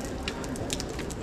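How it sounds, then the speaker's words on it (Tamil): Natural spring water dripping onto wet stone steps at Batu Caves Murugan temple in Malaysia, scattered soft drips and patters over a steady hiss, close by and fairly quiet, with no talk. "மழை பெய்யலை, ஆனால் அந்த இயற்கையோட ஊற்று சொட்டிகிட்டு இருக்கு பாருங்கள்."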